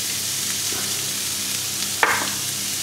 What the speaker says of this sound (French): On va rajouter les grains de coriandre.